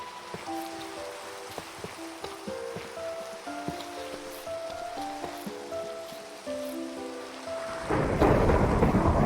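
A Minecraft thunderstorm sends thunder rumbling under steady rain while game tones sound in the background, and the storm swells into a louder, roaring crash near the end.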